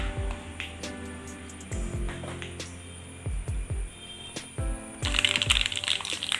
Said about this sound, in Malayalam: കടുക് ചേർത്ത് കൊടുക്കാം ചക്കുപ്പേരിയിലേക്ക് അല്പം കടുക് കൂടുതൽ വേണം കേട്ടോ